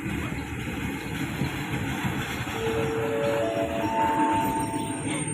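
Passenger train at Non Sung railway station in Thailand, a steady rumbling roll of rail cars with faint rising tonal whines from wheels or brakes, heard close and continuous.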